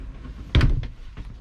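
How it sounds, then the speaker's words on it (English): A truck camper door closes with a single solid thunk, loud and close, followed by a lighter rattle and a faint knock in a quiet interior. "Close the door"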